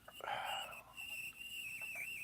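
A faint, steady high-pitched whistle like a teapot on the boil holds throughout, with a brief rustle of noise near the start.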